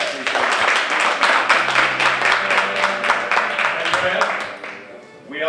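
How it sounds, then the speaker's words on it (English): Audience applause in a theatre during a stage performance workshop, a steady round of clapping with cheering and chatter mixed in, holding loud for about five seconds before fading out at the end. "Round of applause for Andrea, please."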